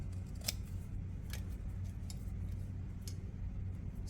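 Scissors snipping a paper coffee filter for a pocket journal, three or four short crisp cuts spaced apart, close and soft over a low background hum.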